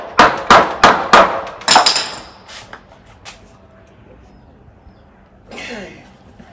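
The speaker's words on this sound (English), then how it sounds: "Just open with the hammer." A hammer strikes something while it is being pried open, with five or six loud, close bangs in a quick cluster, then quieter knocks and a scraping sound as it gives way.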